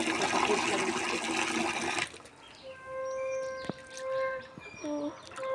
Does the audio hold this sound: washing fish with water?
yes